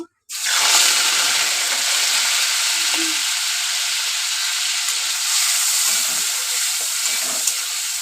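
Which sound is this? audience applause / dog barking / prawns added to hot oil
prawns added to hot oil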